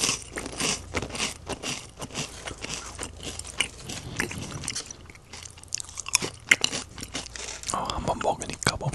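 Close, crisp chewing and biting of crunchy food in an intimate whispered setting, repeated bites with rhythmic mastication filling the clip, a soft voice occasionally audible between mouthfuls.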